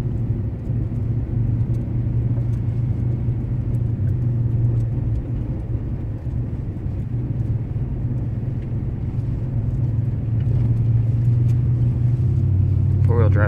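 Steady low rumble of a four-wheel-drive car driving on a road in fog, heard from inside the cabin, with continuous engine and road noise throughout. The drone builds slightly near the end.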